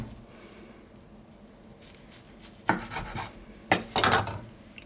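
A knife slicing through a kimbap roll sprinkled with sesame seeds, heard as a few short raspy cutting strokes near the end after quiet handling noise, close and fairly soft.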